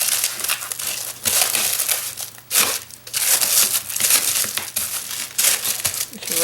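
Glad Press'n Seal plastic wrap crinkles and crackles loudly as it is wrapped around cardboard, in repeated bursts with brief pauses between handling movements.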